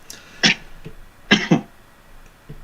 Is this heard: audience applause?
no